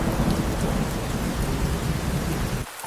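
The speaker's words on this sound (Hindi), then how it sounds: "2 दिन लगातार बीतने के बाद भी बारिश नहीं रुकती है।" Heavy rain pours steadily with a deep rumble of thunder mixed in, a dense constant roar that cuts off abruptly at the end.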